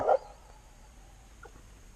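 A single short dog bark right at the start, fairly close, followed by quiet background with a faint whimper-like sound later.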